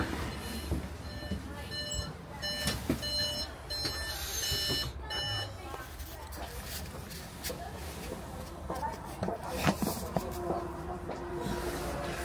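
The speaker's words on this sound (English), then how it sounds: "It's my countdown alarm." A countdown alarm beeps repeatedly inside a London bus cab in a quick, regular series of electronic tones, set against engine hum and rumble from the bus.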